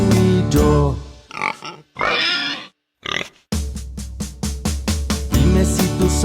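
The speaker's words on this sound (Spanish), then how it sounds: "Dime si tú sabes cómo hace el puerco" A pig grunts and oinks in a run of loud, close bursts, first a few longer squealing calls with short gaps, then a quick rhythmic series of clipped grunts.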